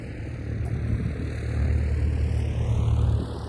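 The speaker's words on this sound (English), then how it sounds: "So here's a Mooney here about" A Mooney small propeller airplane takes off at an airport, its engine a steady drone that swells louder midway, with a Doppler-like pitch sweep as it passes, and no one talking.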